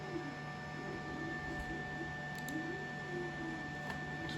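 A 3D printer steadily draws filament into its feed as it loads material for printing face shields, a faint, even mechanical hum with soft ticking alone, no voices over it.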